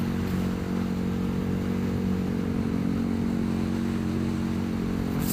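A KTM Super Duke 1290 R motorcycle rumbles along on a ride, its engine a loud, steady drone heard close from the rider's position, with wind noise and no talking.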